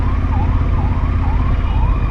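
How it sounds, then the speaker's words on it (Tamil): Ambulance siren on a road passing near a motorcycle rider, a loud wailing tone rising and falling steadily over a low rumble of traffic and engine. "ஆம்புலன்ஸ் போகுது"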